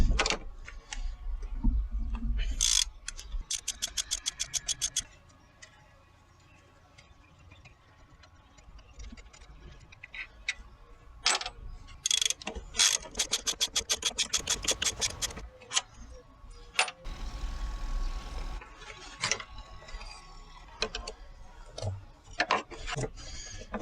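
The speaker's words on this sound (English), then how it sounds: "This is done with a 14mm socket." A hand ratchet turns a 14mm socket to remove the upper torque strut mount on a Toyota Camry LE, giving several rapid bursts of close clicking separated by pauses and metallic handling knocks.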